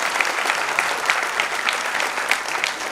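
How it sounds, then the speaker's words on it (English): An audience applauds a speaker at a speech event, a dense, steady clapping that carries evenly throughout, loud and close with no talk over it. "Can we have a huge round of applause for her?"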